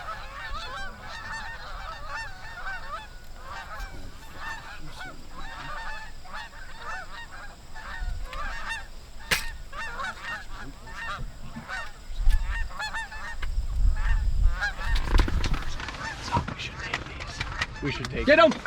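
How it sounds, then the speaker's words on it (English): Flocks of geese honking as they fly in during a river goose hunt, with repeated overlapping calls throughout and voices and bursts of commotion rising toward the end. "Oh, we got more geese coming"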